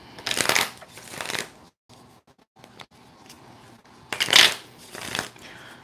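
Tarot cards being shuffled by hand in several bursts of crisp riffling and rustling, loud and close, with brief quiet gaps between.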